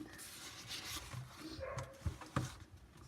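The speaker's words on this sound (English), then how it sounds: "That was my dog that barked in the background." A dog gives a couple of short, muffled barks somewhere in the background amid faint rustling and room noise.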